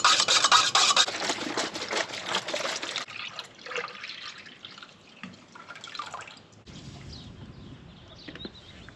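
Liquid being stirred into the water of a poultry waterer on pasture, with wet rubbing and dribbling sounds loud at first, then quieter trickles and drips for the rest of the stretch.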